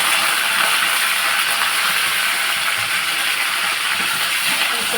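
Cumin, dried red chillies and curry leaves sizzle and crackle in hot oil in a pan. The steady bright hiss is loud and close, continuous with no gaps.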